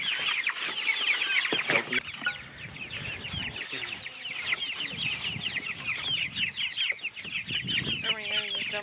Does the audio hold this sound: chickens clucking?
yes